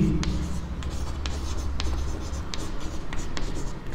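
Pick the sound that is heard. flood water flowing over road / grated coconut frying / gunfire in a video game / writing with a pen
writing with a pen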